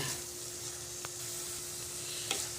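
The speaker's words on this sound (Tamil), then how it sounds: "புதினா சேர்த்ததுக்கப்புறம் அப்படியே மல்லி இலை அப்படியே பரன்னு ஒரு தூவி விட்டு அதையும் ஒரு கிண்டணும்." Mint and coriander leaves frying in a pan give a steady soft sizzle, with a couple of brief scrapes from stirring; no voices.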